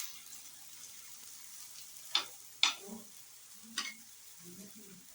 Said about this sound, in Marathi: आता तुम्हाला तो दुसरा पराठा भाजून दाखवते लाच्छा पराठा. ह्याला पण चारी बाजून थोडंसं तूप सोडायचं आहे.